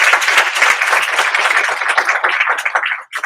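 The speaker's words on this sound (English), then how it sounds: "Please give a round of applause." An audience claps through a round of applause for three women on a health care and immigration panel, a dense, loud burst of many hands that holds steady and then tapers off near the end.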